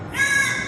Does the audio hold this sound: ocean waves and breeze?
no